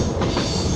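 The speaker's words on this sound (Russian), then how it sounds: "тут в минеральных водах еще не успели спаять рельсы, и они поют нам старую песню" Train interior rumble on unwelded rails near Mineralnye Vody, a loud, steady roar of a railway carriage on the move with wheel noise, heard close and continuous for a brief moment.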